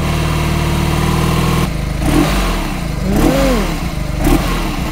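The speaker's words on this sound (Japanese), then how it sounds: "ちょっとエンジンかけてみましょう" A BMW boxer motorcycle engine idles with a steady low rumble, then blips through a few short revs that rise and fall, heard close up.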